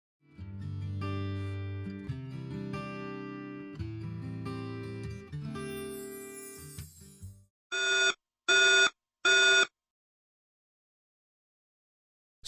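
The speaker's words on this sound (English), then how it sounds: "the battery has generated a 3006 alarm" A battery unit sounds its 3006 fault alarm for abnormal battery expansion: three loud, identical electronic beep bursts, each about half a second long and evenly spaced. Before them comes a stretch of music, and after them silence.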